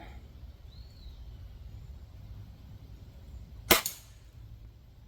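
An Apolo .25 caliber airgun firing a 33 grain slug gives one sharp, loud crack with a short tail, standing out from faint outdoor background ambience.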